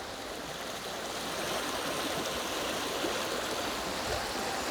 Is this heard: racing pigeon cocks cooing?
no